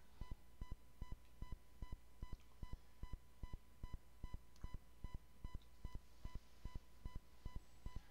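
A faint electronic alarm beeping in a steady, regular rhythm, about two short beeps per second, repeating evenly over a low background hum with no talking.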